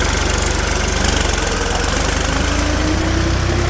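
A tractor engine chugs steadily and loudly while towing a car on a farm, its low, knocking idle-like rumble continuous and close throughout with no voices.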